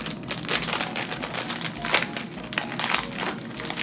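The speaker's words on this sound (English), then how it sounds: "so I'm just gonna have to rip this open" Crinkly plastic packaging of durian paste being torn and ripped open by hand, a steady run of crackling, crumpling bursts close up, with no talk.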